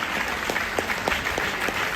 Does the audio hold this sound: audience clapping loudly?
yes